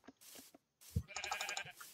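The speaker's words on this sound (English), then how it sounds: "Oh, perfect, I found some sheep." Several short bleats from sheep in the Minecraft video game, fairly quiet, separated by brief gaps, with a bright, buzzy game-voice texture and no talking.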